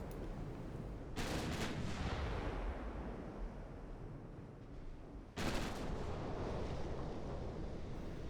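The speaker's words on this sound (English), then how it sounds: "And there we go, firing." Heavy naval guns firing from warships in the Ultimate Admiral Dreadnoughts game, two deep booming salvos several seconds apart, each with a long rumbling tail and the second louder.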